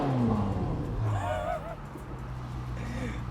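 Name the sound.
Ferrari 458 Widebody with ARMYTRIX exhaust revving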